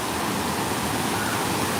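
Water from the Bigfoot Falls waterfall at Knott's theme park gives a steady, dense rushing and splashing roar, close and loud, with no speech.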